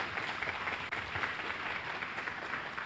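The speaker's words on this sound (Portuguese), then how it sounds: "Vamos aplaudir Jesus." A church congregation at a Sunday service claps together in sustained, moderately distant applause, forming an even, continuous patter.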